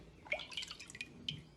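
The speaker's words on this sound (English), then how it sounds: "I'm gonna put the water" Water splashes and drips into a container in a few quick, light spurts, heard close and fairly faint with no talking.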